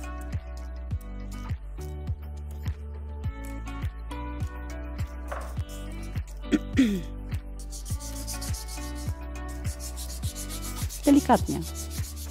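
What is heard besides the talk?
sanding wood by hand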